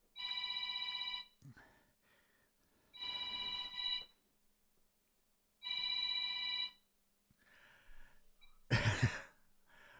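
A telephone rings in bursts, three loud electronic rings about two and a half seconds apart, followed by faint breathing and a sharp noise at the end.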